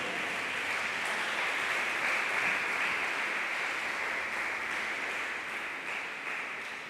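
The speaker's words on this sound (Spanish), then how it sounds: "Démosle un aplauso a Él" A church congregation applauds Jesus in sustained, dense clapping that stays steady and loud throughout, with no voices rising above it.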